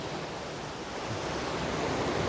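Hull Creek Falls in Pennsylvania rushes in a steady broadband roar, with continuous water noise and no distinct splashes, heard from a short distance on a cold day.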